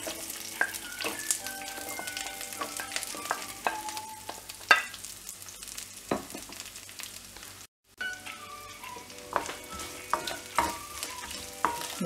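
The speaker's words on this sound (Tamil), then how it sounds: "இப்போ வெங்காயம் ஆட் பண்ணிட்டு நல்லா ஃப்ரை பண்ணலாம்." Onions for drumstick sambar fry in hot oil with a continuous crackling sizzle and occasional stirring scrapes and pops, close by, with a brief dropout near the middle and no speech.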